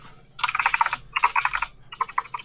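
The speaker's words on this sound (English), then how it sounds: "I'm sorry, my keyboard is very loud." Loud computer keyboard clacking in three quick bursts of rapid keystrokes separated by short pauses, close and alone.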